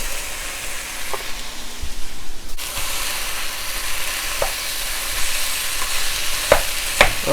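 Ham kimchi fried rice being stir-fried in a pan, a steady close sizzle with scraping stirs and a few sharp utensil clicks against the pan near the end.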